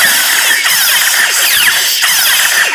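Saberforge "Katana" neopixel lightsaber with a Proffie board igniting, a loud continuous buzzing hum with sweeping warbling tones that stays steady throughout.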